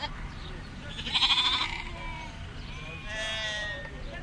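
Sheep bleating at a large livestock auction in Buraydah, with two loud drawn-out bleats close by, heard over steady crowd murmur and talk.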